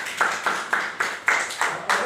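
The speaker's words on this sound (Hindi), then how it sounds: "मारो ताली" Children clapping their hands in a steady rhythm, seven or eight sharp, evenly spaced claps in quick succession, close and fairly loud.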